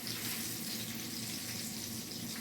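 Italian sausages, cut down the middle, fry in a hot pan with a steady, close, even sizzle and crackle that runs without a break and with no talking.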